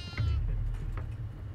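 Goat bleating in a horror video game, a single short bleat near the start followed by fainter wavering cries over a heavy low rumble, without speech.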